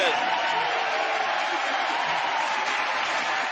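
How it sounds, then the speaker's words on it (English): A small audience applauds Emma and her mom, Megan, with steady clapping that stays even and fairly close for the whole stretch. "let's give a round of applause for Emma and her mom, Megan"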